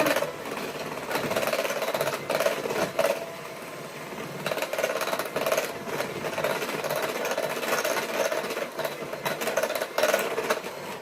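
An electric mixer beating butter, sugar and eggs whirs continuously at close range with a droning motor hum, pausing briefly once.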